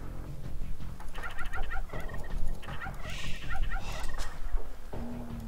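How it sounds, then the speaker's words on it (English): Flock of turkeys gobbling in the strategy game Age of Empires II HD, a string of bubbling, warbling gobble calls repeated across several seconds, fairly close over game ambience, with no talk. "Weird to see turkeys on a desert map."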